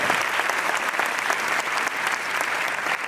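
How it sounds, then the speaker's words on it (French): Steady, dense applause from a comedy show audience fills the whole stretch, loud and continuous with no talk over it. "On va les applaudir, c'est pas eux."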